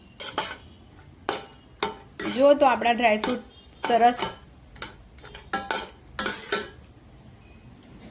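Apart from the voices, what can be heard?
cashews and almonds frying in ghee, being stirred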